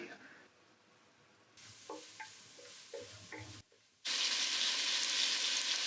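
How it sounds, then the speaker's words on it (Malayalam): Onion, tomato and chili fry in a pan for a Kerala-style mussels (kallumakkaya) roast. Quiet sizzling with a few clattering stirs and spoon taps gives way to a sudden, loud, sustained burst of frying hiss near the end, with no talk. "സവാള ഏകദേശം ആയതിനു ശേഷം തക്കാളിയും മുളകും ആഡ് ചെയ്യുക."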